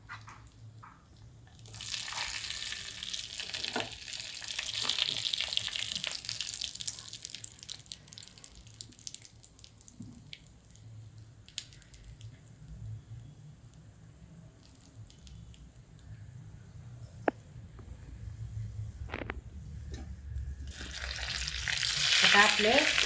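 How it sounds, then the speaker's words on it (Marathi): Cashews fry in hot ghee with a bright, steady sizzle that swells and fades, a low rumble underneath, a single sharp tick midway and a renewed crackling burst at the close. "तर आपलं तूप तापलंय तर त्याच्यामध्ये मी हे काजू टाकते."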